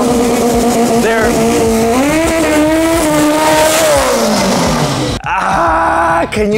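Drag racing cars launching down the strip at a Davao drag meet, loud and close, engines revving with rising and falling pitch and tire squeal, then an abrupt cut to another burst of engine noise near the end.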